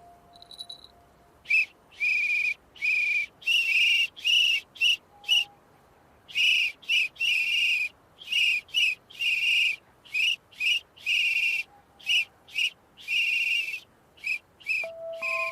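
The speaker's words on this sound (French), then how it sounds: "On siffle encore en même temps" A cartoon whistle gives a rapid series of short, shrill blasts in an uneven rhythm, loud and close against near silence, with a few faint soft tones between them.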